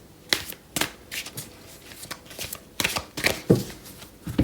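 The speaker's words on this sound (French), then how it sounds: "ce second jeu dont on va tirer 2 cartes sous chaque carte qui vient de sortir" Cards are drawn and laid out from a deck for a Chinese astrology reading, with a string of crisp, close slaps and flicks at irregular intervals and no voice.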